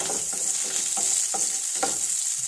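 Mustard seeds crackle and spit in hot oil in a pan, a steady bright sizzle dotted with quick little pops, close and continuous with no voices.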